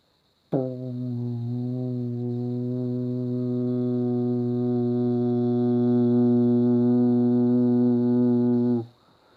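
A voice imitates a low, steady droning hum, held evenly for about eight seconds before cutting off.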